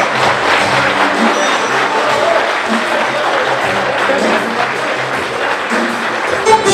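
Wedding guests clapping for the godparents, a sustained burst of dense applause filling the room, loud and continuous, with a few voices mixed in.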